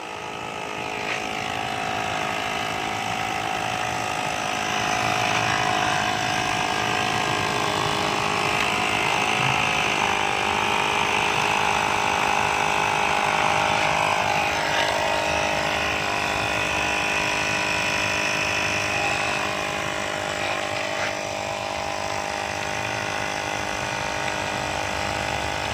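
A portable air compressor runs without a break as it inflates a car tyre during a puncture repair, making a loud, even mechanical drone with a rattling edge.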